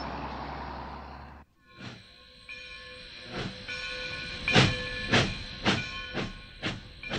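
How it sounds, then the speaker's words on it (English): Train on the rails: a steady hiss cuts off, then a series of rhythmic clanking, thumping passes of railroad cars grows louder and nearer, with faint whistle-like tones ringing between them. "What is it? It's a train."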